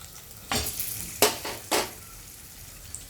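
Green chillies, curry leaves and asafoetida sizzle in hot oil in a pan while being stirred, with three sharp bursts of spatter and scraping over a steady low crackle. No one speaks.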